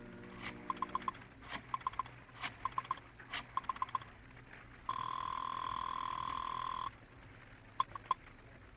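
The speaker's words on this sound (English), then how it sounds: "Once you reach your apartment, you dial Julie's private phone at the club" A telephone is dialed in a 1951 radio drama: rhythmic clusters of dialing clicks, then a steady, loud line tone for about two seconds and a short ring near the end, with no talking.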